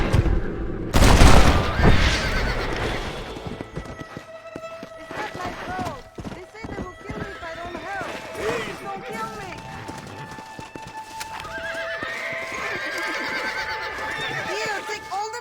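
Horse galloping and neighing in the video game Red Dead Redemption: a loud whinny near the start, then rhythmic hoofbeats running on, with someone speaking over the action.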